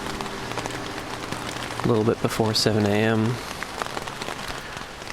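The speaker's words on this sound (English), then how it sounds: "And the rain is coming down." Steady rain patters on a tent at Antlers Campground in the 100-Mile Wilderness in early morning, a constant hiss under someone speaking briefly in the middle.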